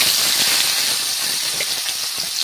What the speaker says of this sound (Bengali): তেলটা গরম হয়ে গিয়েছে, তো শাক ভাজার আগে প্রথমে মাছটা ভেজে নেবো